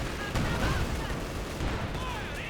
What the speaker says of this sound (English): Sniper opening up on the MG42.